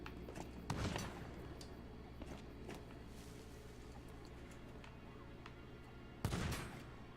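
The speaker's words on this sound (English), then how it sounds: "Oh, I see the gunfire" Gunfire in the Sea of Thieves video game, with two sharp blasts about five seconds apart over a quiet low rumble and scattered faint crackles.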